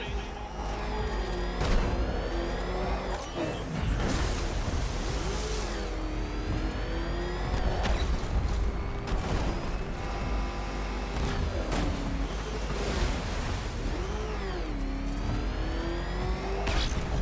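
A car engine in a Batman video game drones and revs steadily throughout, with pitch rising and falling as it drives, under background music and intermittent voices.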